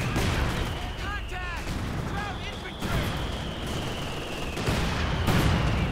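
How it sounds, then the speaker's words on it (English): Cluster bombs striking in Company of Heroes 2, a dense rolling barrage of explosions and gunfire over continuous battlefield rumble, with a commentator's voice running faintly underneath. "He's calling in the cluster bombs again"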